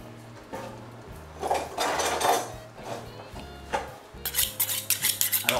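A knife slicing dried duck breast (magret séché) on a board, with scraping cuts and a quick run of rhythmic tapping strokes toward the end, close and moderately loud.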